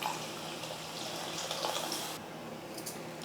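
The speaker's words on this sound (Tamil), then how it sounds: "கொஞ்சமாக புளி எடுத்து ஊற வச்சு கரைச்சி வடிகட்டிக்கிட்டு அந்த புளி தண்ணி சேர்த்துக்கிறேன்" Strained tamarind water is poured into a cooking pan for a kulambu, making a continuous splashing pour for about two seconds before it stops, followed by a few faint drips.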